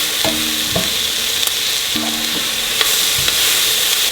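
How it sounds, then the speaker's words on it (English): Vegetable curry sizzles on high heat in a pan, a constant frying hiss broken by a few sharp scrapes and knocks of a spoon stirring against the pan, no talking. "And so let it saute. Saute for 5 minutes"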